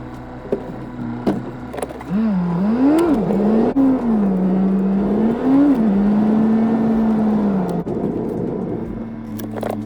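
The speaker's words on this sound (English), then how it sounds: "we're going to go for a quick drive, warm it up a little bit" A car driven on a frosty morning to warm up before its MOT test. The engine drones steadily from inside, its pitch rising and falling as it accelerates and changes gear, with a few small knocks.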